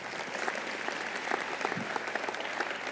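Faint, distant applause from an audience at a State of the City event held in an airport aviation hangar, an even, continuous patter of many hands with no voices on top.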